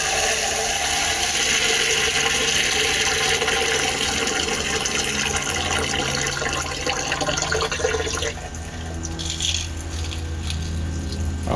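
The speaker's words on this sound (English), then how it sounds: "let's try to manually prime these things by just filling them with water" Water being poured by hand into a backyard pool's pump to prime it, a steady loud splashing and gurgling fill that runs continuously, then thins toward the end.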